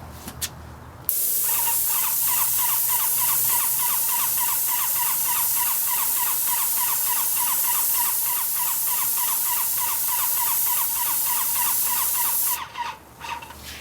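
A paint sprayer hisses continuously for about eleven seconds, a loud, steady spray with a fast pulsing flutter from the pump, starting and stopping abruptly while paint is applied to exterior house stucco.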